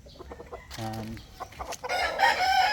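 Six-month-old gamecock stags of Kelso and mixed local bloodlines cluck in short bursts before one lets out a clear crow, followed by a louder, harsher squawking flurry close by.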